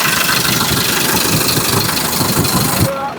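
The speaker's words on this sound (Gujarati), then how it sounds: "એન્જિનનો અવાજ મિત્રો હાવ સાયલેન્ટ છે." A Sonalika Tiger DI 60 4x4 tractor engine idles close by, a loud, steady low rumble that holds even for a few seconds before dropping off at the end.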